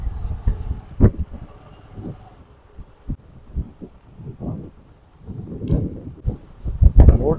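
Thunder rumbles over Dharwad as rain approaches after a sunny spell: intermittent low booms and rolls, some sharp and near, others softer, with quiet stretches between them and no voices.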